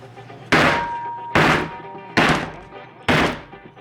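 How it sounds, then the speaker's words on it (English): Four loud, hollow thunks at an even pace, a metal cake pan of red velvet batter being banged down hard on a table, close by with short gaps between. "bang it on the table to flatten it out."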